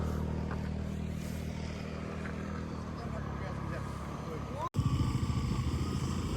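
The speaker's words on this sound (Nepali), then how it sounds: "स्कुटर पनि आउँदो रहेछ पुरै।" A scooter rides a rough dirt road in Mustang near the Kali Gandaki, a steady engine drone with a voice over it, then a brief dropout before the motor comes back louder and closer.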